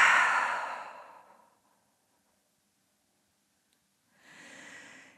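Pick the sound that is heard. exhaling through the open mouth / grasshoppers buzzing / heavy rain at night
exhaling through the open mouth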